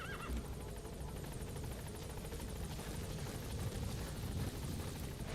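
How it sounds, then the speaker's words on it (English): A horse in the video game Metal Gear Solid V whinnies briefly amid a steady whirring helicopter-like background drone, the neigh faint and partly masked by the continuous mechanical noise. "Wait a minute, I need to get the horse over here."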